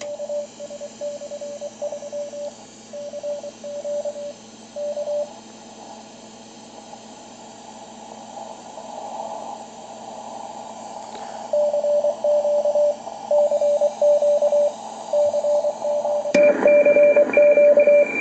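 Two radio stations come in on a BC348 receiver fitted with a crystal filter adapter, giving steady tones and beeping carrier-like signals over a constant hiss, with the sound stepping up louder near the end.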